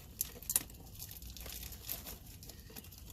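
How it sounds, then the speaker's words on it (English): A plastic bag snagged on a fishing hook crinkles faintly in short, sharp rustles, a few quick crackles near the start and softer scattered crinkles after, quiet and close. "I got a plastic bag in here, so now the hook stabbed the bag."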